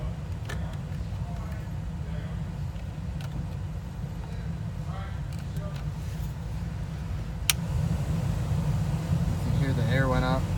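Steady, loud airy whoosh of a car's blower motor running on high speed, continuous for the whole stretch and growing slightly stronger near the end, with someone talking over it.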